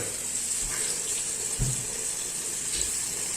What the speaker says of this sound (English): All you need to do is hold it like this and water them.